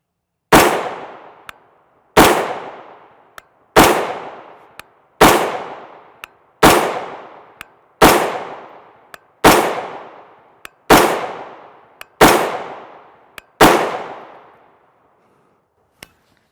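Rifle fitted with Magpul backup iron sights and a Rise Armament single-stage trigger fires ADI 5.56x45mm 62gr M855 FMJ ammunition, ten loud sharp shots spaced about every 1.4 seconds, each with a long decaying echo, plus faint clinks between.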